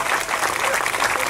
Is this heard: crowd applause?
yes